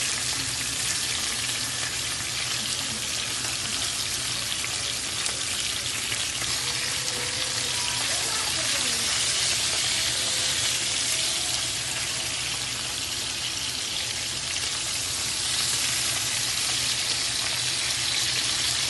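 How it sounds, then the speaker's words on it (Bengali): Hilsa fish fries in a pan with oil, giving a steady, dense crackling sizzle that stays close and even from start to finish, with no voices. "একটু হালকা করেই ভাজতে হবে মাছটা বেশি কড়া করে তো ইলিশ মাছ ভাজা যায় না"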